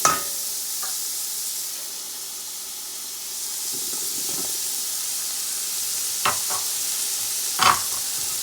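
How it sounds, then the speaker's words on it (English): Steady, loud sizzling hiss of chicken fried rice frying in a hot pan, with broccoli going in and a few sharp clatters of a utensil stirring, close up and without speech. "I'm gonna add some broccoli in here"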